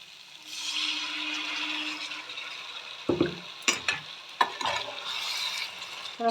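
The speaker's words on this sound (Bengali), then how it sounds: "একটু মশলা দিয়ে তেল ছাড়তে আরম্ভ করে দিয়েছে" Masala spices fry in oil for a duck egg curry, giving a soft, steady sizzle. A few sharp utensil clinks and scrapes come in the second half.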